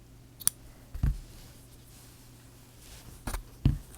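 Scissors snip crochet yarn close to the microphone in a quiet room: a few separate crisp clicks and snips spaced irregularly over several seconds.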